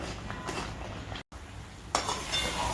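Semolina sheera for prasad, cooked with ghee, is stirred in a pan with a spoon, giving soft scraping with light metallic clinks that grow busier toward the end.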